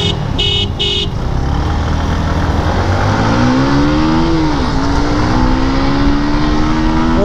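A Honda Hornet and a Suzuki Gixxer racing along a highway, loud engine roar with a rising revving pitch as one bike accelerates, plus short horn toots near the start.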